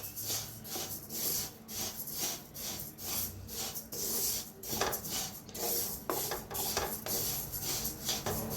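Sesame seeds roasting in a pan over a low gas flame, crackling and popping steadily with a rhythmic scraping of stirring against the metal, close and fairly quiet with no talking.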